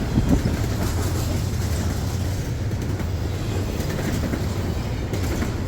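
A freight train led by a rebuilt SD60E and ES44DC with an ES44AC trailing rolls past as a steady, loud low rumble of locomotives and cars, continuous and close.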